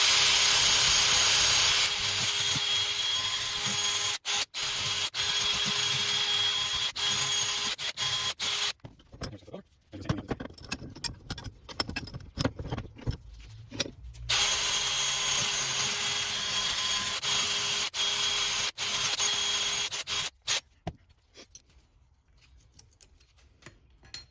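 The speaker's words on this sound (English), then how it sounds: "we're just going to use a simple wire brush. Could you use a wire brush or a rotary tool like this?" Rotary tool or wire brush cleaning front brake surfaces on a 2019 Ram 1500, a loud continuous high-pitched whir that cuts out and restarts, broken by short gritty bursts and pauses.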